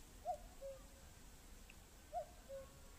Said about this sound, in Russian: Слышите кукушку?